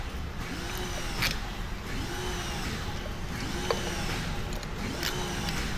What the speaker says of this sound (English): the factory studs gotta go. I gotta remove those. We have a stud remover socket here.